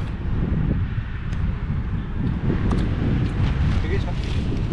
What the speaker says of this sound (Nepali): हावा चल्यो